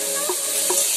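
Food frying in a pan gives a steady, close hiss for about a second, with a few soft stirring taps.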